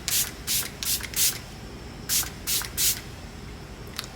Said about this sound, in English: Here's the Make It Last. This is my only setting spray right now.